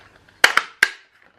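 A handheld paper punch snaps through a piece of paper while making shabby-style magnets, giving three sharp, close clacks in quick succession with a short pause before the last.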